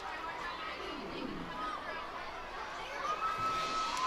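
A minor-league baseball stadium crowd at a Hartford Yard Goats versus Reading Fightin Phils game makes a distant, swelling murmur of chatter and cheers beneath a commentator's talking.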